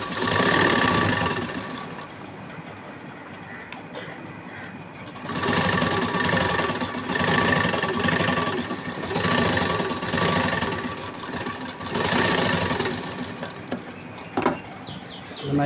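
Sewing machine stitching a princess-cut blouse for Aari work, a loud, close, continuous mechanical whir with steady rapid chatter, running in long stretches with a couple of brief slowdowns.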